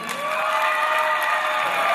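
Audience at a Chinese New Year gala in greater Chicago breaks into a short burst of clapping mixed with loud cheering and shouted voices, close and lively.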